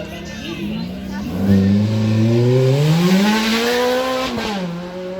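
An Italian mid-engine V8 supercar accelerates hard at a live demo run, its engine note climbing through rising harmonics, loud and close before easing slightly, with crowd chatter underneath.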